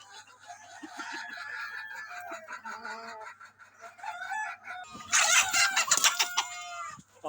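Farm chickens cluck and chatter at moderate distance, then a rooster bursts into a loud crow near the end, over a faint steady hum.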